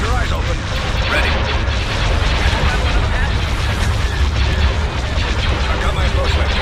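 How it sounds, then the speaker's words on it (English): Ion cannon fire in a Star Wars Empire at War space battle, a heavy continuous rumbling barrage of booming blasts, loud and dense, with no clear gaps between shots. "Iron cannon firing."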